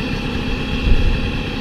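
A Mobylette moped engine idles after the fuel has been shut off, a steady close mechanical putter that swells briefly midway, with no voices.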